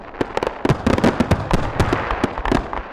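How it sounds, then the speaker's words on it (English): Fireworks explode in a rapid, uneven series of sharp bangs and crackles at a winter ice festival, loud and close with overlapping bursts throughout. "The fireworks weren't the only light show to kick off this year's Great Ice Festival."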